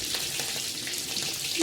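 Vegetables sizzle steadily in hot oil in a kadhai, with a dense, bright crackle of frying that carries on without a break and no speech.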